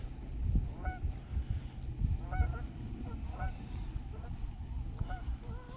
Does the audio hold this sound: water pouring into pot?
no